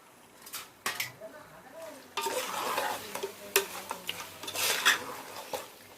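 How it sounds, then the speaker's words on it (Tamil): Chicken sautéing in a pan with onions and tomatoes for biryani, a soft sizzle under repeated scraping stirs and clinks of a spoon against the pan, with speech in the background. "போட்டுட்டு சிக்கனும் நல்லா வதங்கணும்."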